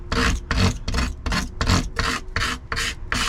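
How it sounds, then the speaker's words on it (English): Hand sanding of carbon fibre edges on an Evotech Dynamic tail tidy for a Ducati motorcycle, eight rhythmic, loud, close rasping strokes back and forth with short pauses between. "A little bit of sanding just to take any rough edges"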